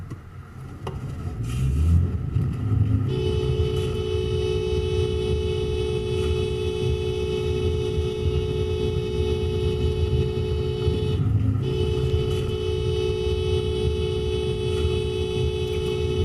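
A car horn sounds from inside the moving car as a steady, constant-pitched tone over road rumble, cutting out briefly near the end before resuming.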